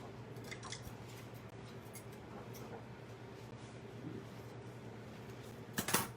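Scissors trimming paper for a handmade mini photo album, giving a few faint, close snips over a quiet room with a low steady hum, with a slightly louder cut near the end.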